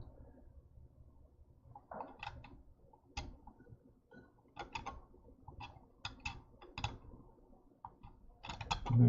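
Sharp scraping cuts from a carving knife scoring a stone seal, heard as irregular clusters of short scratchy strokes, close and moderately loud, with brief pauses between bursts.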